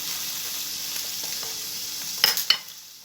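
Spices and seafood stirred together in a frying pan for a seafood pastilla, a steady close sizzle with a couple of sharper scraping stirs near the end, no voices.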